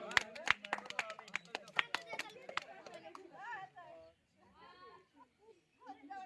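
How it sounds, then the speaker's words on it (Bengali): An audience at a village game claps in sharp bursts of many hands, loud and close at first, then thinning out as people talk and a voice comes through. "সবাই জোরে একবার হাততালি মারেন।"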